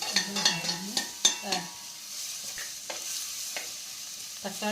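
Tomato and turmeric sautéing in a pan, with a soft sizzle under repeated scraping stirs. A few sharper utensil knocks come early, then steady frying continues.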